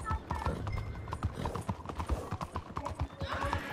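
Horse hooves clip-clopping in a Western open-world video game, with rapid, uneven galloping hoof beats from several mounts and occasional neighs, fairly close over game ambience.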